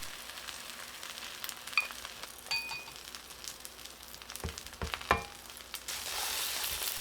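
A seafood green onion pancake (haemul pajeon) fries in an oiled pan while being pressed down, a steady soft sizzle broken by a few sharp clinks of a metal utensil against the pan.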